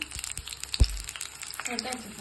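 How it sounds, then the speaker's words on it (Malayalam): Small onions drop into hot coconut oil for a tempering for rice gruel, a brief spatter with a soft thud, then light sizzling under faint voice-like sounds. "ചെറിയ ഉള്ളി ഇട്ട് കൊടുക്കണ്ടേ വറവിന്"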